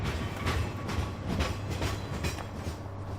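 A freight train in Farming Simulator 2015 rolls away with a steady rumble and a rhythmic clickety-clack of wheels on the rail joints, continuous and moderately loud.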